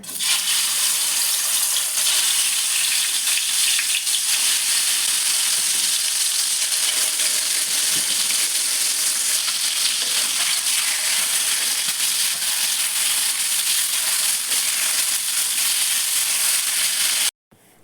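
Fish marinated in turmeric and salt fries in hot oil, giving a loud, dense, continuous sizzle that runs steadily close-up and cuts off abruptly at the end, with no voices.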